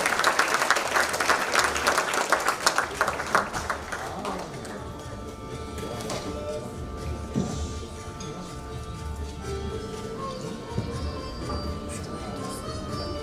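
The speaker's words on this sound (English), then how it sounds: "Let's give all the kids, the youth, and a big round of applause." Audience applause at the Akshaya Patra charity event, a crowd clapping for the children and youth, loud and dense at first and then thinning to scattered claps under background murmur and tones.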